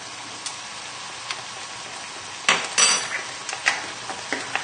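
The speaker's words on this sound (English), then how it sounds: "just put the lid back on and give it a shake" A stuck paprika or cayenne spice jar shaken with its lid on gives a few brief rattling bursts near the mic, loudest in the middle, then smaller scattered clicks over a quiet kitchen background.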